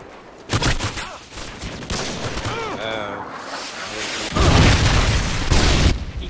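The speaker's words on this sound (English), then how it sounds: "Throwing stun grenade." A stun grenade goes off amid gunfire in Call of Duty Modern Warfare 2 team deathmatch, loud sharp bursts and booms in rapid succession with a heavy blast near the end.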